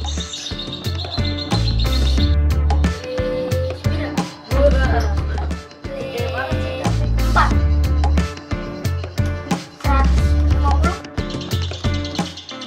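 Bird-like chirps and tweets sound repeatedly over a loud music track, a person whistling through the lips to imitate bird calls, with short bursts at irregular intervals.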